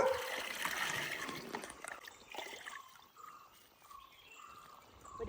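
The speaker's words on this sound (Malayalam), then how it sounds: "അപ്പോൾ ഓരോന്നിൻ്റെ ചോട്ടിലായിട്ട് നമുക്ക് കുറച്ച് ഒഴിച്ച് കൊടുക്കാം." Liquid fertilizer solution poured in a thin stream around the bases of garden plants, a close trickling splash fading to a softer dribble while birds call faintly in the background.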